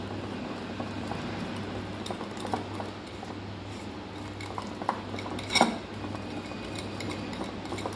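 Batter mixed with oil in a bowl is stirred by hand, giving a quiet, continuous scraping and soft clinking of a utensil against the bowl, with one sharper clink near the end.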